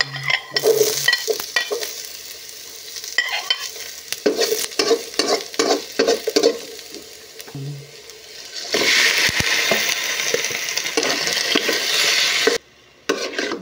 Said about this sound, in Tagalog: ang gawin natin ang lumigisa tayo ng bawang